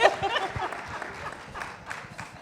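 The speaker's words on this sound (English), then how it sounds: "My mama starting off the claps." An audience at a film premiere breaks into clapping and applause, with scattered hand claps that start sharp and settle into a softer patter.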